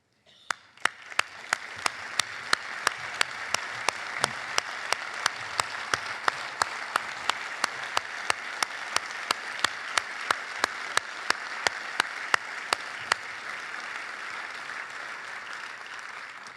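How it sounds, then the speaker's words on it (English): Crowd applause honoring military veterans at a stockholders' meeting, a sustained wash of clapping with one set of sharp, evenly spaced claps standing out near the front, then tapering off at the end. "So if you wouldn't mind standing for one more round of applause, we'd love to honor you"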